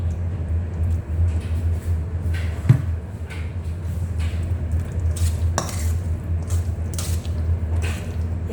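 Grated coconut cooked with gula melaka is stirred in a pan, giving soft repeated scrapes and occasional clinks of a utensil over a steady low background hum, with little sizzle.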